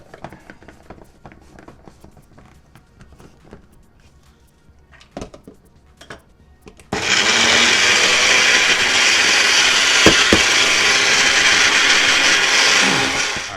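A food processor starts up after some quiet clicks and handling, then grinds a pork and lemongrass mixture loudly and steadily for several seconds with a dense, whirring roar.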